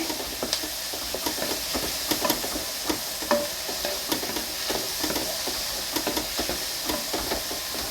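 Beef curry with thick gravy sizzles steadily in a pan, a continuous crackling hiss broken by frequent stirring scrapes, close and moderately loud with no voices.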